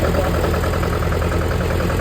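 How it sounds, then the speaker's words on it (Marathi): A Mahindra tractor engine runs while pulling a plough through a field, a loud, close, steady chugging drone with a fast even beat and no speech. "आता ट्रॅक्टर कसं चालतं"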